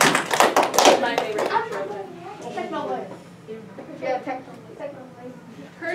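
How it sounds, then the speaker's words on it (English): Audience applause at an elementary school fifth-grade graduation, a brief burst of clapping that fades after a couple of seconds as a speaker keeps talking. "So give Alex a round of applause."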